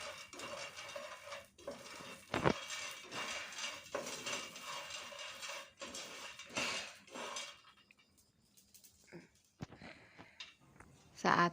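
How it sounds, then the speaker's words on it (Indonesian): Popcorn kernels stirred in a pan with a utensil, a steady dry rattling and scraping with metallic clinks, dropping to quieter scattered taps near the end, under a running hiss. "Aduk-aduk terus ya Mam, agar panasnya merata dan jagungnya juga panasnya merata."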